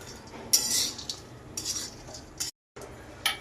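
A spoon scrapes and clinks against a metal pan while roasted cashews and almonds are lifted out of hot ghee into a bowl for fenugreek laddu, with quiet, intermittent bright metallic scrapes and short pauses.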